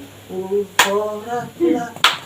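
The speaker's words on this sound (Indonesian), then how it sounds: "Ayo semangat puji Tuhan. Tapi tepuk tangan." Two sharp, loud hand claps ring out about a second apart between stretches of speech during a church sermon.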